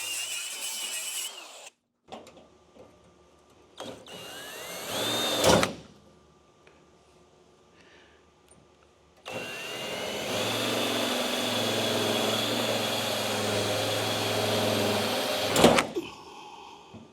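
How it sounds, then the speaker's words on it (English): Power drill cutting a pilot hole for a windshield channel on a vintage Datsun, brief bursts early, then a loud steady whine for several seconds at close range. "So what we're going to do first is drill a pilot hole."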